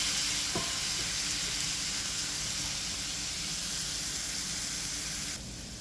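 Potatoes sizzle steadily in a hot pan, a dense, even frying hiss close up that stays constant and drops slightly in level near the end.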